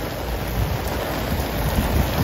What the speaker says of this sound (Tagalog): talagang buhos ng buhos yung ulan dito sa aming area